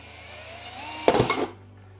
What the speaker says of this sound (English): We're going to attempt to drill a very small hole in this piece of very old steel.